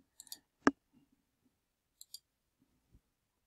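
Computer mouse clicks while working in PowerPoint 2016, a few sharp, quiet clicks spaced apart in an otherwise silent room.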